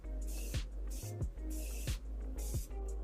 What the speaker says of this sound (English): now I'm just gonna set my face with some Morphe setting spray.